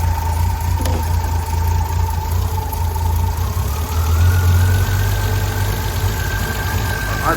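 A Triumph Mk1 PI car engine idles steadily, a low continuous hum that rises slightly in pitch partway through as the idle speed picks up, with no talk over it.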